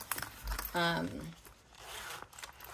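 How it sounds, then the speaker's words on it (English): A zipper on a cork fabric pouch is pulled open in one quick rasping run, close and fairly soft, with handling rustles around it and a sewer speaking nearby. "the most important part of this step is open your zipper"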